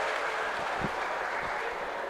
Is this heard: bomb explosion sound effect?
no